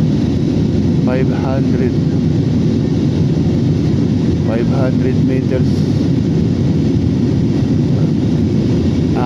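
Steady broadband cabin roar of a Philippine Airlines airliner climbing after takeoff on a flight from Bacolod-Silay to Manila, loud and continuous throughout, with someone talking over it in bursts.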